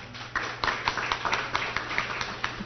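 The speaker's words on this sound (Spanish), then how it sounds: "vamos a darle un fuerte aplauso también a ella." Audience at a radio announcers' celebration applauding, with uneven, scattered hand claps of moderate loudness from a modest crowd, heard fairly close.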